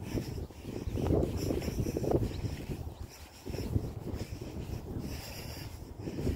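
Gusty wind buffets the microphone with a low rumbling roar, rising and falling across several seconds, with no voices.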